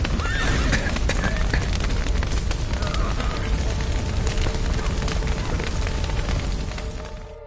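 Horses neigh and whinny over a dense, rumbling backdrop of crackling fire, hoofbeats and commotion, loud and close, in The Witcher 3: Wild Hunt as a burning stable's roof collapses.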